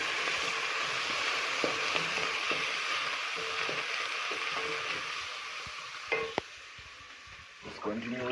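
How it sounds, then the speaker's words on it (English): Tomatoes boil in a pot during a simple village lunch cooking session. A steady, loud bubbling hiss runs throughout, with a few light clinks and knocks near the end. "The tomatoes are still boiling."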